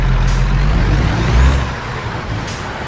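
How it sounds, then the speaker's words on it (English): A heavy truck rolls past in the American Truck Simulator game, a loud low engine rumble swelling and peaking midway, then easing off as it passes, with a faint hiss of air brakes near the start and end. "Alright, we'll go ahead and let this truck go by."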